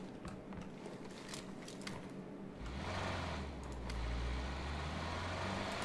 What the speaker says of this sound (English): I hear a car though.